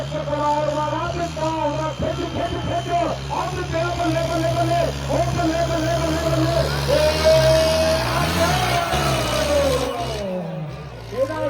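A tractor engine, Swaraj 5911 make, at a village tractor race, rumbles and revs under continuous excited talk from a crowd, pitch rising and falling with throttle, loud and close throughout.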